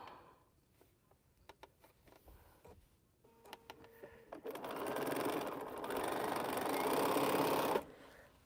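A sewing machine stitches mini pinwheel blocks for quilt sashing. A few scattered clicks come first, then a loud, steady whirring run lasts about three seconds before stopping abruptly.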